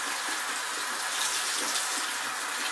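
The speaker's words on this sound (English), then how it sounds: "I'm going to rinse it off here with the warm water again." Warm tap water runs steadily over a piece of Spanish vinyl being rinsed clean of scrubbed grease, a soft continuous hiss of flowing water close by.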